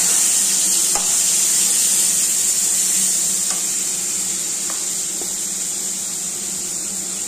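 A steady, close sizzle of spices and onion paste frying in a hot pan, with a few faint clicks of stirring scattered through it.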